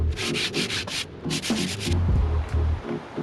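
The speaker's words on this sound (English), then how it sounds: "Sanding down that first primer layer with something like a 120 grit is really important to give that smooth finish" Hand sanding the first primer coat on a piece of wooden furniture with 120 grit sandpaper, loud close rhythmic scratchy strokes in quick back-and-forth bursts with brief pauses, no voices.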